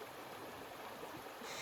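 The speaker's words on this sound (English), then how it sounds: "Stream, the water." A mountain stream flows steadily along a hiking trail, a constant broadband rush of water close by with no voices over it.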